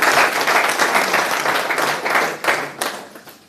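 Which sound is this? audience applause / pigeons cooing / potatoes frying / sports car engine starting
audience applause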